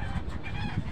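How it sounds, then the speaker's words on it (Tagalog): A fighting rooster clucks briefly nearby amid a busy outdoor rooftop background. "Ayan, manok. Ayan. Manok ng aking tatay."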